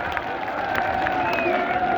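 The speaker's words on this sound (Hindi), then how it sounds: "तो अब सब जोरदार तालियां बजाकर हेमाराम जी का स्वागत करो" Farmers' rally crowd applauding to welcome Hemaram ji, a steady dense wash of clapping and cheering with scattered whoops, loud and continuous throughout.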